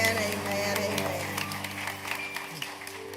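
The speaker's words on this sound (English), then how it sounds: "we want to give the Lord a hand clap of praise" A church congregation at an AME service gives a sustained round of applause, many hands clapping close by with a faint hum of voices mixed in.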